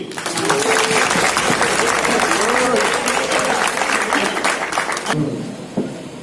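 An audience claps through a Leo Club installation ceremony in Dharan, a sustained, loud burst of applause that fades near the end, with voices talking over it.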